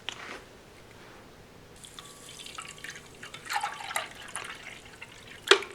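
Water poured into a Russian MRE drink mix, a soft trickling fill with a few drips and small splashes that grow louder toward the end, heard alone at close range.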